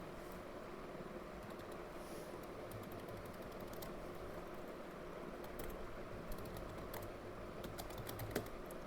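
Steady typing on a computer keyboard while designing a form in Microsoft Access, a continuous run of light key clicks over a constant low fan or room hum, with no talking.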